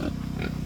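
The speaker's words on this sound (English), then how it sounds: "It's a male pig over there." A male pig grunts at close range in a short, low, buzzy burst, loud and alone.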